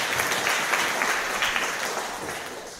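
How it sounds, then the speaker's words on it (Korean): A church congregation at a Sunday morning worship service applauds in a dense, steady wash of clapping that slowly fades toward the end. "우리 하나님께 영광의 박수 올려드리도록"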